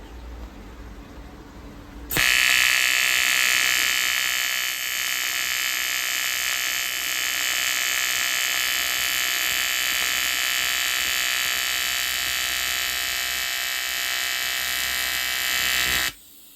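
A TIG torch welds aluminum under foot pedal control. After a quiet start the arc starts abruptly and holds a loud, steady, hissing electric buzz for about fourteen seconds, then cuts off sharply.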